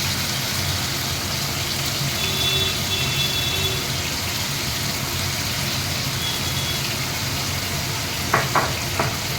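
Pabda fish frying in hot oil in a pan: a steady, fairly loud sizzle runs throughout, with faint beeping tones in the background and a few short clatters near the end.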